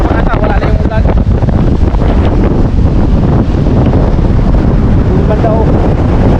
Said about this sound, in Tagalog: Lakas pa rin ang hangin.